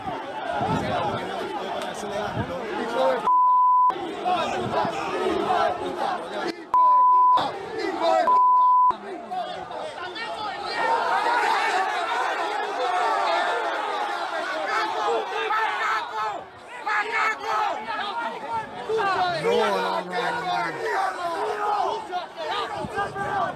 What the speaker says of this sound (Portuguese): Aí a gente roda para vocês também o vídeo da torcida, né?